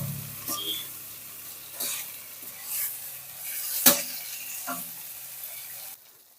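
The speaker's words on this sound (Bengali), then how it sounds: "এবার মাছটাকে পেঁয়াজের সঙ্গে সুন্দর করে ভেজে নেব" Kuche fish (mud eel) rubbed with salt and turmeric fries with onions in a pan, giving a steady close sizzle with occasional stirring scrapes and one sharp clatter, then falling quiet at the end.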